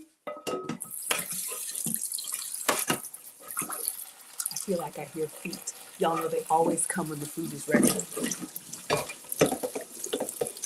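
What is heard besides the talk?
washing a skillet under running tap water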